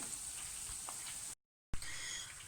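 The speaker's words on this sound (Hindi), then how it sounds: "दूसरे बैच को भी हम लोग फ्राई होने के लिए रखते हैं।" Sliced onions frying in plenty of oil for birista give a faint, steady hiss close by. Partway through there is a brief dropout, then the sizzle comes back.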